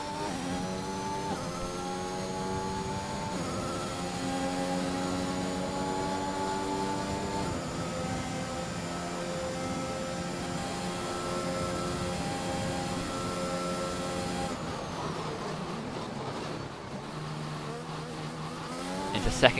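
Mercedes race car engine in a sim racing game, a sustained high-revving tone with rising and falling pitch through gear changes on a lap, loud and steady, with a rougher burst of throttle near the end.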